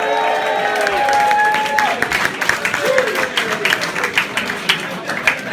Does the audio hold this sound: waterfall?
no